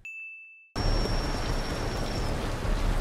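Heavy, steady rain hisses loudly and evenly across the full band after a sudden cut from a quiet moment with a ringing ding tone, the downpour staying dense and unbroken to the end, a drowned-out TV drama mix.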